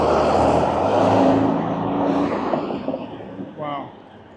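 Heavy traffic roar and wind buffeting fill the clip, with vehicles rushing past close by and a voice briefly audible.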